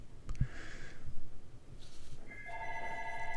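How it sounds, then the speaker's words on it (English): A telephone rings in short electronic bursts, a trilling tone repeating twice with a pause between, fairly close and moderately loud over a quiet room. "The phone is ringing."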